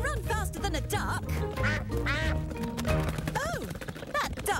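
Cartoon-style duck quacks from Peppa Pig ring out repeatedly over bright background music, with a voice briefly speaking in between.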